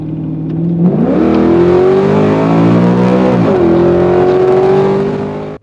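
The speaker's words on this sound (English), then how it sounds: "The sound of that SB4 was just incredible." A loud V8 engine in a Chevy Caprice wagon revs up, holds a steady high drone, dips briefly, then climbs again, rich and throaty throughout.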